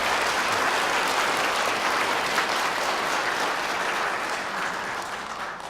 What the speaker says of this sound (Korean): 우리 한번 박수로 함께 축하하겠습니다